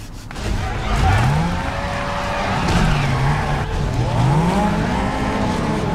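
A car engine revs up and shifts through gears repeatedly in a Need for Speed Underground 2 sprint race, loud and close, with tire noise and rising and falling pitch sweeps over a constant road rumble.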